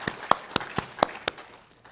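A church congregation at a Sunday service claps in a steady rhythm, about four sharp beats a second. The claps are fairly faint and roomy, and they thin out toward the end.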